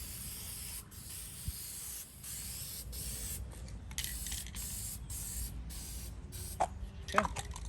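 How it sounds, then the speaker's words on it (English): Aerosol spray paint hissing steadily onto a black hitch-mounted cargo rack, a close, continuous spray with a few short breaks and light clicks near the end. "This helps you from getting confused and what you've sprayed and what you haven't"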